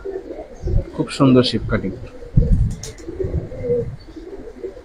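Giribaz pigeons cooing in a loft, several soft, rolling coos close by, with someone talking over and between them.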